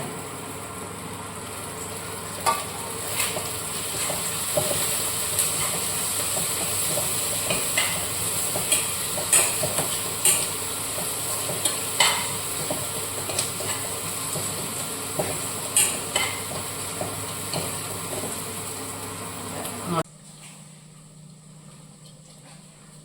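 Onion, green chilli and garlic fry in a pan with a steady sizzle and repeated sharp spatula scrapes and taps for about twenty seconds, then the sound drops to a quiet hum.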